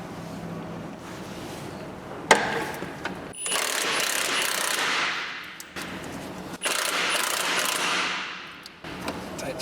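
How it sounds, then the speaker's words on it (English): Repeated ratchet clicking as a wrench works an 18mm gearbox mounting bolt loose on a Ford Focus MK2 with a slipping clutch, two long bursts of fast pawl ticks close by, fading at their ends, with no talking. "So down here there's an 18mm bolt just there we need to undo."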